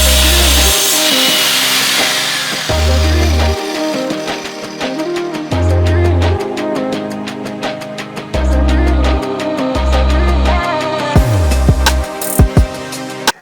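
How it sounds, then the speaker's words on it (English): Jigsaw cutting wood to finish shaping a homemade macebell or Indian club, a buzzing saw running in repeated bursts with short pauses between passes, loud and close, with a rough ending. "then I could go in with the jigsaw and finish it all off"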